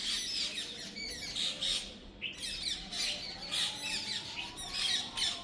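Many parrots squawk repeatedly in harsh, shrill bursts, fairly close, with a steady outdoor background hum and no talking.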